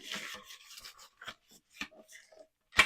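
A butter wrapper is rubbed over a baking pan to grease it, making soft, close, intermittent rubbing and scraping strokes with short pauses in between, without any speech.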